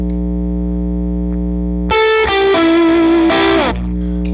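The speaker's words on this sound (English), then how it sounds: "The hum mimics the heater hum that you would get from a tube amp and it sounds like this." Simulated tube amp heater hum from a Line 6 Helix with the drive turned all the way up: a loud, steady low buzz with strong harmonics. Distorted guitar notes sustain over it in the middle, then the hum carries on alone.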